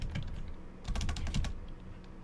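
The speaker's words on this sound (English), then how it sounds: "why do I keep typing that?" Fast bursts of clicking on a computer keyboard, light clacks with a denser flurry in the middle, close and fairly quiet, with no talking.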